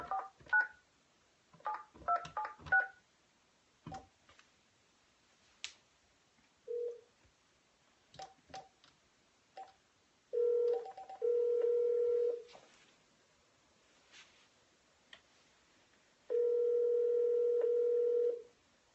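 Telephone keypad tones are dialed in quick clusters for a sales call, followed by two long, steady ringback tones with a pause between them, loud and clear with no talking.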